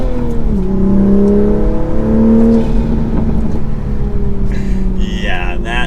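Toyota Supra MK5 with a full exhaust system revving, a deep, loud engine note rising and holding in sustained pulls, with a faint voice near the end.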